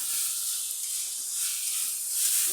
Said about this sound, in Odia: ସେଥିରେ ଅଦା ଆଉ ଲେସୁନ ପେଷ୍ଟ ପକେଇଦେମା ଆଉ ସୋୟା ସସ୍ 2 ଚାମଚ ପକେଇ ଦଉଛେ